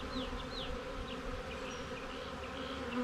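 Honey bees buzzing around an open hive during harvest, a steady close hum of many insects with individual bees whizzing past in short pitch-shifting passes.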